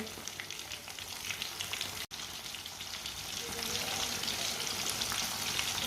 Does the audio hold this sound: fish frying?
yes